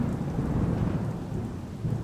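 A thunderstorm pours heavy rain in a dense, steady hiss, with deep rolling thunder rumbling low underneath throughout, and no voices.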